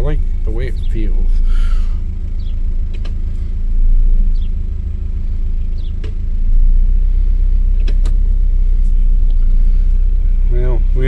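A 1989 Chevy S10 Tahoe engine idles with a steady low rumble and slight rises in revs, while people talk briefly near the truck.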